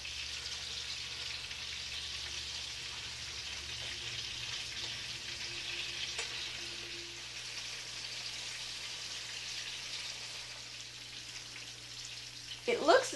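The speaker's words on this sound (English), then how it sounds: "let's go to the meatballs that are frying in the pan. You can hear them, they're sizzling." Keftedes, Greek meatballs, fry in a pan with a soft, steady sizzle that hisses quietly throughout, closing with a brief clatter near the end.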